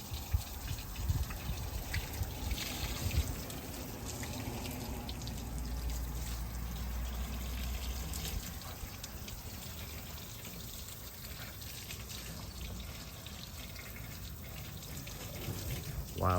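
Water rinses a 1966 Ford Mustang barn find, a steady gushing spray splashing over the body with low rumbling underneath, close and continuous, no talking.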